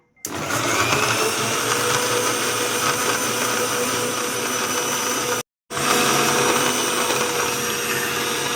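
A blender whirs steadily at high speed as it mixes a butter fruit (avocado) milkshake with milk and almonds, loud and continuous, cutting out briefly for a moment before starting up again.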